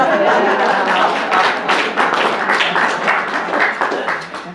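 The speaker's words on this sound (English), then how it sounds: "Go ahead, clap for him." A burst of audience applause, many hands clapping at once, loud at first and then gradually fading.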